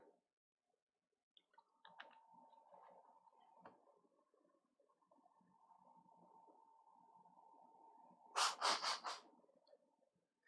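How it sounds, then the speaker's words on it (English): A person blowing their nose: a faint, low airy hum, then a short burst of loud, sharp honking snorts near the end. "Sorry to keep blowing my nose on you guys."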